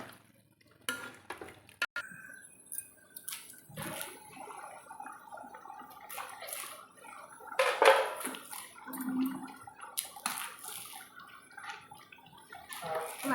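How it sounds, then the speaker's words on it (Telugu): Hot water from a kettle is poured into a pot of mutton curry during cooking. It gives intermittent splashes and trickles with a few utensil clinks, fairly quiet and close. "వేడి నీళ్ళు వేసుకుంటున్నాను నేను కాచి"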